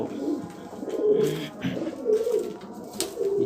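Sherazi pigeons coo softly in a low, repeated rolling murmur, several phrases over a few seconds, fairly close with faint background noise.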